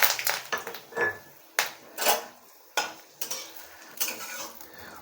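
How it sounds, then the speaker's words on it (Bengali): A pinch of cumin seeds, four dried red chillies and two bay leaves dropped into hot oil in a pan, with sharp metallic clinks and scrapes of a spoon and a few brief crackling sizzles between them, no voices. "এবারে আমি এর মধ্যে ফোড়নগুলো দিয়ে দিচ্ছি"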